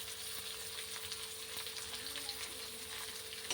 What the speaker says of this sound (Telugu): కలుపుతూ మంచిగా ఆనియన్ రంగు మారేంత వరకు ఫ్రై చేసుకోవాలి